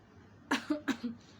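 Four short, close coughs in quick succession, the last one softer, with quiet room tone before and after.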